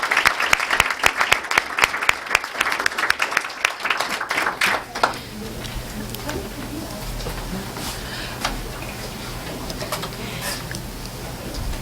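Applause for the students of the month at a CUSD school district meeting: a burst of scattered hand clapping from a modest room audience that tapers off after about five seconds into quiet room tone.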